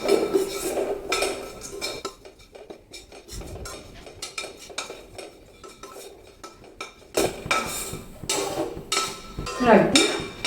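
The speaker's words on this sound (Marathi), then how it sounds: "तर अगदी हलकीशी इथं सुंठ भाजून घेतली." Dry ginger roasting in a pan with a little oil, heard as loud clinks and scrapes of a spoon against the metal pan in uneven bursts, quieter in the middle and busier again toward the end.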